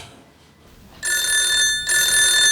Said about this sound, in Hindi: अपनी घंटी बज गई